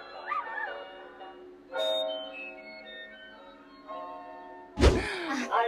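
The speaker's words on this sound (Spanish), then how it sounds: "Al perrito le duele una mano." A dog whimpering in pain from an injured paw gives a few high, wavering whimpers and yelps, close by, with a sharp thump near the end and quiet background hum.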